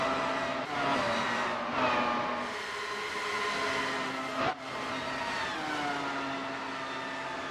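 Dallara race cars of the race leaders sweeping past, sustained engine whine with pitch shifts as each car goes by, one sharp close pass in the middle, fairly loud throughout with no talk.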